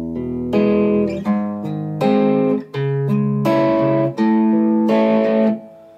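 An electric guitar in standard tuning plays the intro of GAYLE's "ur just horny" with a distorted tone, rhythmic strummed chords in short bursts separated by brief pauses, close and loud.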